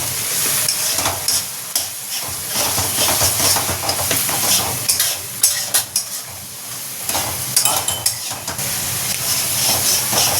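Spices fry in a hot pan while being stirred, a continuous sizzle broken by repeated scraping and clinking strokes of the spoon, close and fairly loud, with no talking.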